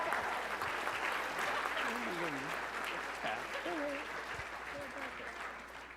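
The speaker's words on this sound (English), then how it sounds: "Give them a big round of applause," A big round of applause from the audience at the Upper Midwest Emmy Awards ceremony, dense continuous clapping with some voices and whoops mixed in, gradually tapering over several seconds.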